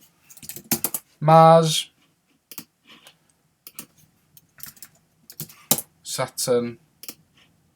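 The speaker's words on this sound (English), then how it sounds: "So I'm going to type Earth in." Keys on a computer keyboard are tapped in short, sparse clusters of crisp clicks, close by, with a voice speaking between the bursts.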